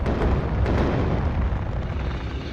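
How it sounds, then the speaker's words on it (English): Cluster munitions and artillery shells explode in the WARNO battle, a dense, rumbling roll of overlapping booms that stays loud and heavy throughout without letup. "One of the cluster munitions coming in there, and now artillery."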